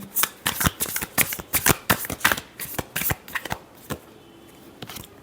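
Tarot cards shuffled by hand in quick, crisp riffling bursts, close and loud, about a dozen snaps in rapid rhythm that slow and thin out toward the end.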